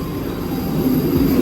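A commuter train pulls in at a busy suburban station platform near Dadar, its steady low rumble and rolling wheel noise building and growing louder, with a faint squealing tone rising in the last half second.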